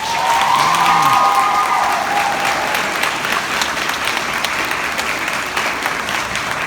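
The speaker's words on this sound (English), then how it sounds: "You deserve to give yourselves a huge round of applause." Sustained, loud applause from graduates at a high school graduation ceremony, a dense wash of many hands clapping that holds steady throughout, with crowd noise mixed in and a brief tonal sound near the start.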